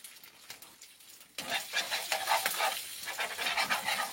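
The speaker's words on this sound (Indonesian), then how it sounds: "Ini mau goreng nasi sisa kemarin" Leftover day-old rice frying in a pan at a sand-mining site, scraped and stirred in a rapid irregular rhythm over a constant crackling sizzle that grows louder partway through, close up, with no talking.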